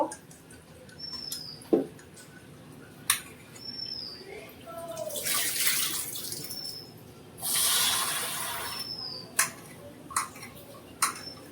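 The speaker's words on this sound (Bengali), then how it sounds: "ডালটা জল পাল্টে পাল্টে ভালো করে ধুয়ে নেব।" Lentils (dal) washed with the water changed repeatedly: two short bursts of pouring and splashing water between quiet stretches, with scattered sharp clicks and knocks from the kitchen.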